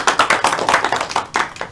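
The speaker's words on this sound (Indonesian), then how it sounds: "Berikan tepuk tangan untuk Mbak Nia" Brisk rhythmic clapping from a small classroom group applauding a student in a geography microteaching session, close and fairly loud, with quick regular claps that briefly pause before resuming.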